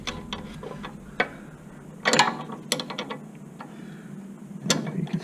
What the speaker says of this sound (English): let me get my other ratchet set here